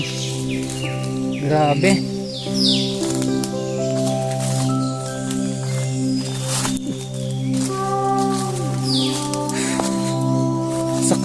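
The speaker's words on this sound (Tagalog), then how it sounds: "Napapakinggan natin ang iba't ibang huni ng ibon dito sa puso ng kagubatan." Several kinds of birds sing in a dense forest near Katanubongan Cave in Lasam, Cagayan, giving scattered chirps and calls over a steady droning hum of insects, while someone briefly speaks.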